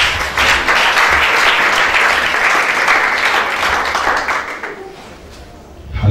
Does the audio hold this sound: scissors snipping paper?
no